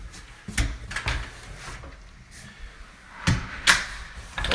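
A house door in a garage is shut and locked, giving a few sharp knocks and clicks with quiet gaps between them, close by and with no voices.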